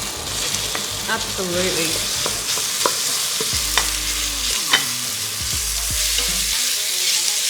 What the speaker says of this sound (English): You always want a good sear on the meat, a good colour.